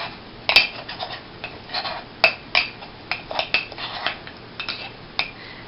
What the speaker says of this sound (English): So then you just stir it together.